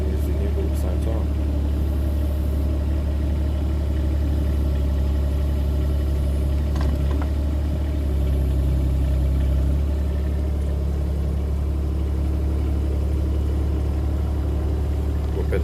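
Vehicle engine running steadily while driving, a loud continuous low rumble filling the whole stretch with only slight changes in tone and no break.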